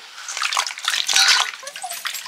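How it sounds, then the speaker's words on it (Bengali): Cut potatoes being washed in water in a home kitchen before boiling for biryani, with continuous sloshing, splashing and dribbling as hands stir them in a pot or bowl, close and fairly loud. "আলুগুলো ধুয়ে সেদ্ধ করতে দিচ্ছি"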